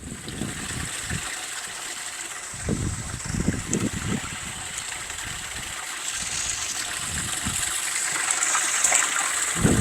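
Pump pushing water into a bait tank on a fishing boat, a steady close gushing rush with low thumping splashes and faint engine-like hum throughout.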